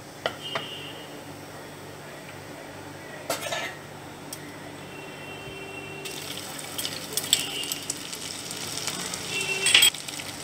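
Ginger paste sizzles in a pan for a Bengali banana flower curry, a soft steady frying hiss with occasional stirring clatter that grows louder and busier toward the end.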